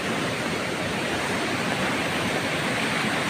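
A flooded river in barangay Tabyunan surges with a strong current, a loud, unbroken rushing roar that stays steady and dense from start to finish.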